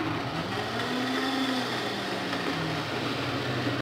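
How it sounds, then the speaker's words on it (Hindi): An electric grinder jug whirs steadily as it blends raw mango chutney, a loud continuous motor drone with a slight pitch rise and dip, running alone without pauses for about four seconds. "अब मैं इसे ग्राइंड करने लगी हूँ"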